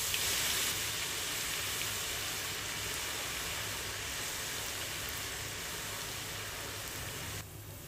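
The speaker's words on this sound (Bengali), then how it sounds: "এবার একটা কড়াইতে বেশ খানিকটা অয়েল গরম করে এতে আলু দিয়ে অনবরত নেড়ে গোল্ডেন কালার হওয়া পর্যন্ত ওয়েট করব" Potato pieces fry in plenty of hot oil in a wok while being stirred constantly until golden, giving a steady, even sizzling hiss that runs unbroken throughout.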